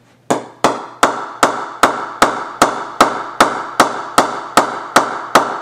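An Indian-made SG Sunny Tunny cricket bat gets a ping test, with about fifteen evenly spaced, sharp, close taps of a mallet on the willow, each ringing briefly before the next.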